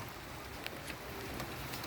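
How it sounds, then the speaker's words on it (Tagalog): Steady rain falls outdoors where a Chevrolet Optra sits open for a top overhaul, engine cover off and battery disconnected. A constant broadband hiss fills the scene, dotted with a few sharper drip taps nearby, with no talking. "Maulan nga lang. So kita nyo mapatak yung ulan."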